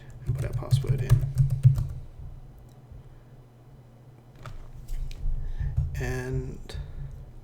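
Typing on a computer keyboard to enter a password at a CentOS 7 terminal, a short burst of quick clicking keystrokes near the start, fairly close, with quieter scattered clicks afterward.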